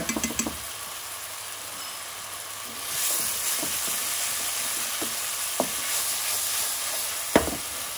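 White onions frying with a teaspoon of salt in a pan for a garlic chilli prawn curry: a steady, loud sizzling hiss that swells partway through, with occasional sharp stirring clicks, close up and without talk.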